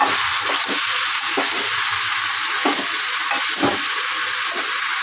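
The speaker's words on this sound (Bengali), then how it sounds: "ঝিঙেগুলো দিয়ে কিছুক্ষণ ভেজে নেব।" Ridge gourd frying with onions in a pan gives a loud, steady hiss with some stirring taps mixed in, and no one speaks.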